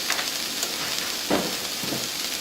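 Frozen peas and carrots cooking in a pan, a close, steady hiss of sizzling with a couple of brief louder bursts as the vegetables are stirred, and no talk.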